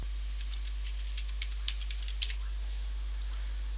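Light typing on a computer keyboard, a few scattered soft clicks over a steady low electrical hum, quiet and close with no talking.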